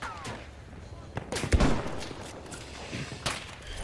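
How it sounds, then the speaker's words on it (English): Sniper and other gunfire in the Battlefield 1 video game, scattered sharp shots with one heavier blast in the middle, set against battlefield ambience and faint game sounds. "Oh, getting sniped."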